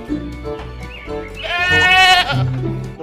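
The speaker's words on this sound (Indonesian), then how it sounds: "Lihat, ini adalah kambing." Goat bleating, one loud wavering bleat rising in the middle, over a quieter background and a speaking voice.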